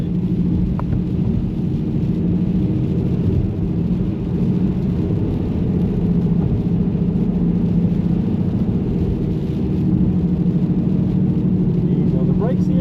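A car drives a lap around the Nürburgring in Germany, its engine a steady loud in-cabin hum and rumble that barely changes throughout, with faint clicks and occasional knocks.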